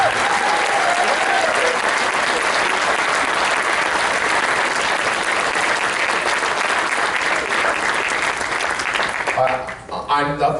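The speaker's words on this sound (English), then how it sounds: "Guys, a round of applause for everybody here" At the IndyFurCon 2016 convention closing ceremony, a large crowd applauds loudly and continuously for staff and panelists for about ten seconds. The clapping thins out at the end as a voice cuts in.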